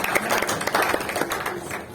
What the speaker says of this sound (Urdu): آپ کی پیشنس کے لیے زوردار تالیاں بجائیں